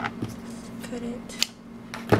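A pair of scissors snips through ribbon while a paper pillow treat box is being finished: two short, close cuts stand out over a steady low hum.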